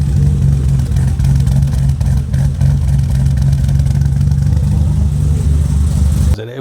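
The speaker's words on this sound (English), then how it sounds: "This is what a cammed up old Beamer sounds like" An old BMW E28 with a lumpy performance cam runs its engine, a loud, steady low rumble with uneven idle-like pulses held close by for several seconds before cutting off at the end.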